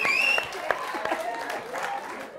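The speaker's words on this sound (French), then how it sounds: "On applaudit Katia" A studio audience on a French talk show claps for a guest, a short burst of applause with cheering voices and speech mixed in, tapering off toward the end.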